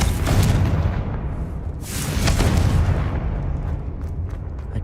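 A fiery Confringo spell blast in Hogwarts Legacy, erupting as a loud booming burst with a second swelling rumble about two seconds later, dense and sustained throughout.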